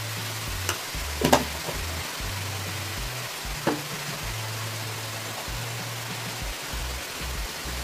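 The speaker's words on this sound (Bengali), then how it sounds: "মূলোগুলোকে ভাজা ভাজা করে নেব।" Radish frying in a pan with a little salt gives a soft, steady sizzle, with a few brief clinks and scrapes of a spoon stirring, heard alone at low volume.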